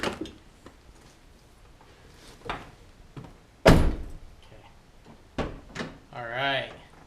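The interior door handle of a 1999 Honda CR-V is worked and the door opened, giving sharp clicks and a loud latch thunk among softer knocks, with a voice speaking briefly near the end.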